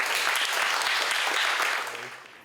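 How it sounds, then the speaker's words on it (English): A lecture audience applauds to welcome a professor, a full sustained round of clapping that fades out toward the end as a low hum remains. "let's give a big applause to welcome Professor Fearon"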